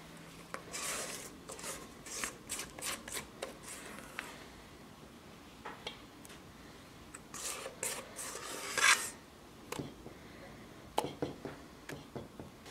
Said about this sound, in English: So add the salt and the baking powder. Mix that in well by hand.